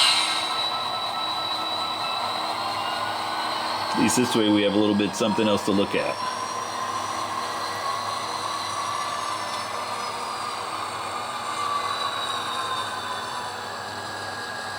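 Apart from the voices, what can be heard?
GP38-2 model locomotive moving box cars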